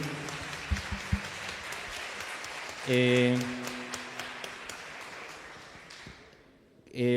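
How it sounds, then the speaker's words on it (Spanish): A seminar crowd on urban art and graffiti in Medellín applauds a speaker, a moderate patter of clapping with a tonal burst of music or voice in the middle and a swell at the end. "quisiera que le diéramos un aplauso muy fuerte a FAS, pero muy fuerte"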